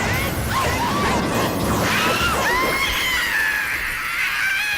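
Majora's Wrath in Zelda: Majora's Mask letting out shrill, wavering screams over clashing battle noise and whooshes, loud and continuous throughout with no talking.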